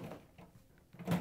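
A trash compactor drawer slides out with a low, muffled rumble and a dull thump near the end, close by and fairly quiet, with no talking.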